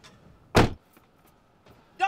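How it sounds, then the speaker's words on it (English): A single loud car door slam, one sharp thud right after a short voice, with more talking following; set outside a car as someone gets out for class. "Don't be slamming my car door."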